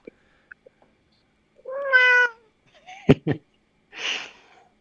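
A elderly house cat meows clearly and nearby, a drawn-out, wavering call, followed by short rustles and a softer hiss-like sound while the room is otherwise quiet.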